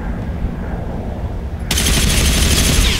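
MG36-H machine gun in the shooter game Ghost Recon Phantoms, a loud continuous burst of rapid automatic fire that starts abruptly after a moment of low rumble and keeps hammering to the end.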